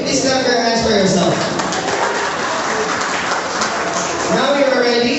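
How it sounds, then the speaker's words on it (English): A classroom audience claps their hands, a dense steady patter of many hands that lasts the whole stretch, with voices calling out over it. "Please clap your hands for yourself."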